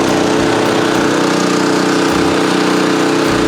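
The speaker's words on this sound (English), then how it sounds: "The official snowblower cold start." A snowblower's small engine cold-starting in an old garage, running loud and steady at close range with a rough, even idle throughout and no talking.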